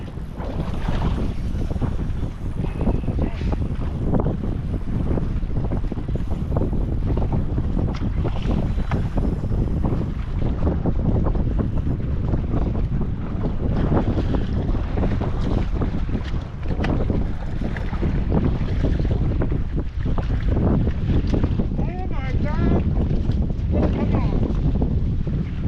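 Strong 20-mile-an-hour wind roars steadily across the microphone on a fishing boat out on big waves in the rain, with a constant loud buffeting rush that never lets up.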